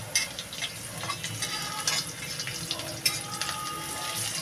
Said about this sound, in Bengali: এই দেখেন তেলে ভালো করে ভেজে নিলাম।